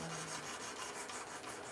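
A knife being sharpened on a grinder gives a continuous, even rasping grind that holds at a steady, fairly quiet level throughout, with no talk over it.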